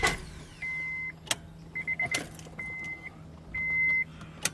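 A 1994 Honda Accord that won't start primes its fuel pump, giving a steady electric whine that repeats in short bursts between sharp clicks, heard up close over a quiet low rumble.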